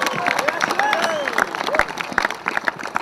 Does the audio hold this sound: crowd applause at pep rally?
yes